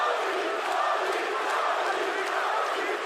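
A boxing arena crowd roars and cheers for heavyweight Tony Yoka in a fight against Martin Bakole, a dense continuous wall of voices and shouts, loud and steady throughout.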